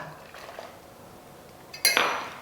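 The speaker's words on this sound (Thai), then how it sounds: "คนให้เข้ากันให้ละลาย" A metal spoon stirs coffee and milk in a cup, giving a quiet scrape followed by a burst of bright clinks against the cup near the end.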